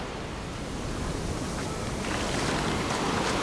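Sea waves wash onto a beach in Alanya in a steady, continuous surf, close and fairly loud, with a faint breezy hiss and no voices.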